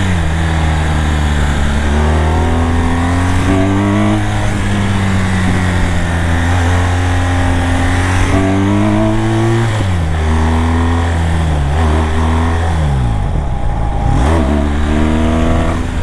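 A BMW 1200 motorcycle engine revs repeatedly on a practice track during wheelie training, loud and close, its pitch climbing and dropping in several throttle surges with no talk over it.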